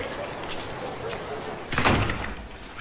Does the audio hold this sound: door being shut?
yes